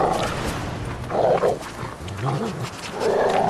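Dog in The Witcher 3: Wild Hunt, several loud growling barks and woofs in bursts at close range, with a low rumbling growl between them over game ambience.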